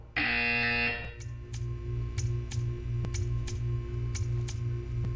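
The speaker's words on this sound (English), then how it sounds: "You will hear a buzzer." A loud electronic buzzer from the video game Portal 2 blares for about a second, then gives way to a quiet, regular ticking with a low hum underneath.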